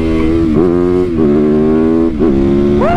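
A KTM 1290 Super Duke R motorcycle accelerates hard and loud, its engine note climbing through several gear changes with short dips between them, and a final rising rev at the end.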